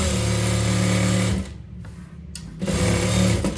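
Sewing machine stitching a seam on Afghani trousers, a close, fast whirring hum that stops for about a second and then starts again.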